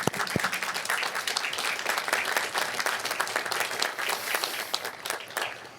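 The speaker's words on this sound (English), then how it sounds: "we want to give applause, graduates and platform party, to all our loved ones behind us that made this day possible" Audience at a university graduation commencement ceremony applauds, a dense sustained wash of many hands clapping at moderate distance, fairly steady throughout with faint crowd murmur underneath.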